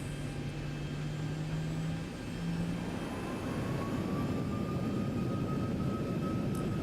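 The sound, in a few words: Boeing 737 jet engines in X-Plane flight simulator video game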